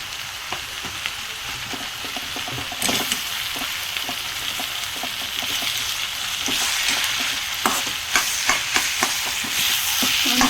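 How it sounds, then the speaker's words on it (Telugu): Sliced onions stir-fry with ginger paste and turmeric for an egg curry, a constant loud sizzle broken by repeated scraping stirs of the spoon that grow busier toward the end. "ఆనియన్కి మంచిగా పట్టేటట్టు కలుపుకొని పచ్చివాసన పోయేలాగా మంచిగా ఫ్రై చేసుకుందాం"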